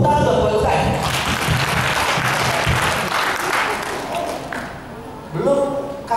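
An audience applauds after a business talk, a dense, loud wash of clapping that carries steadily and thins slightly near the end, with voices and cheering mixed in.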